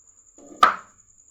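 A single knife cut through a peeled potato, a short crisp chop against a cutting board in a quiet kitchen.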